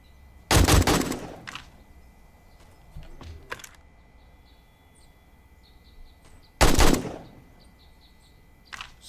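Gunfire at zombies in 7 Days to Die alpha 19: two loud, close bursts of shots about six seconds apart, with quieter clatter and faint game ambience between them, and no speech.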